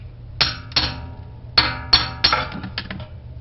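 Sharp metallic strikes from a bricklayer's hammer chiseling at a utility sink's tailpiece pipe, about seven in uneven bursts, ringing clinks close by against a faint low hum.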